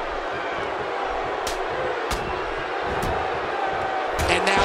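Wrestling arena crowd during a televised tag team match, a broad sustained roar of cheering that swells near the end, with sharp impact-like bangs scattered through it.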